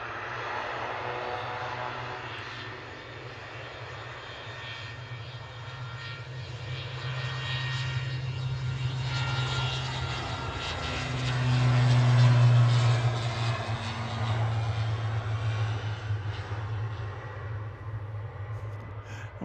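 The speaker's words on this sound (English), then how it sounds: "The ATR 42 sounds ridiculous." An ATR 42 turboprop airliner at Manchester Airport drones loudly and steadily for the whole stretch, its propeller engine tone swelling to a peak near the middle and holding strong, heard alone without talk.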